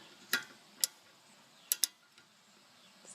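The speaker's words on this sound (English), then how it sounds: "So now we can tighten those bolts back on so we can get our ratchet again here." A 14 mm ratchet clicks while brake caliper bolts are tightened, a few sharp isolated clicks, some paired, over a quiet background.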